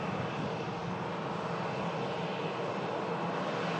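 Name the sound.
Ryanair airliner engines at the airport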